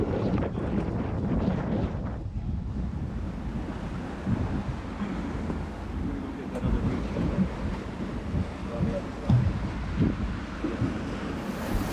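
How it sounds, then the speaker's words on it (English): Wind roars across a sailboat crossing the Pacific Ocean in about 10 knots of breeze, with a continuous buffeting rush and wave wash around the hull, loud and close to the microphone. "We have 10 knots of wind."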